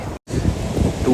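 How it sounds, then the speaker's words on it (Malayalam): Strong wind buffets the microphone at Serenity Beach in Pondicherry, a loud, continuous low rumble with one brief dropout near the start. "നല്ല കാറ്റാണ്, നല്ല കാറ്റ്."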